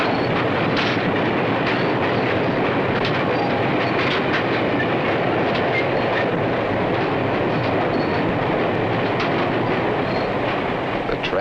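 A 1950s freight train running on its rails, a loud, continuous rumble with faint rhythmic clickety-clack of wheels passing over rail joints, sustained and close throughout.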